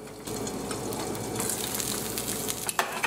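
Breakfast food sizzles steadily in a covered pan on the stove, a continuous close frying hiss with a few sharper pops and clinks near the end.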